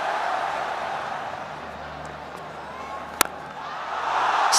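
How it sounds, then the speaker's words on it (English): Cricket stadium crowd at a Pakistan vs South Africa ODI in Faisalabad, a broad roar of cheering that holds steady, dips slightly and then swells again toward the end, with one sharp knock near the end. "You will know why the crowd is roaring."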